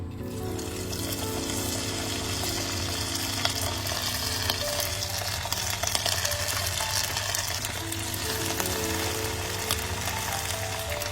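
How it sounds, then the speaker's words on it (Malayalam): Chicken frying in hot oil in a wok, a dense, continuous crackling sizzle that stays loud and close throughout, with no talking over it. "ഇപ്പോൾ ഓയിൽ ചൂടായിട്ടുണ്ട്, അതിലേക്ക് നമുക്ക് ചിക്കൻ ഇടാം."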